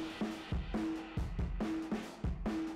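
Shoegaze guitar and drum mix run through an MXR Dynacomp compressor, ProCo Rat distortion and Electro-Harmonix Memory Man delay, a fuzzy sustained wash with punchy drum hits recurring in a steady loop, loud and alone.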